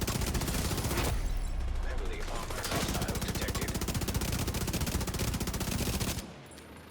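Sustained automatic gunfire in The Division 2, loud and nearly continuous rapid bursts with dense overlapping shots for about six seconds before dropping off abruptly, no talk heard over it.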